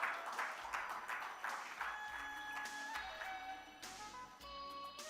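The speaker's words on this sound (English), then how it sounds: "A big round of applause, ladies and gentlemen." Audience applause fills a conference stage at the ThinkEdu 2023 event in ITC Grand Chola, a steady crowd of clapping under soft background music.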